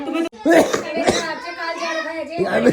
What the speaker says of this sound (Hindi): अब तो इतनी भयंकर खांसी हो गई